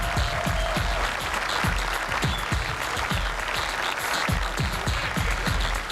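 A large weigh-in crowd at a bass fishing tournament applauds angler Skeet Reese, steady dense clapping mixed with a few distinct louder claps, continuous and loud throughout.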